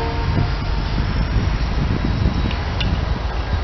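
A loaded rock freight train rolls past on the Bay Line, a loud continuous rumble of wheels and cars with a faint horn-like tone in the background.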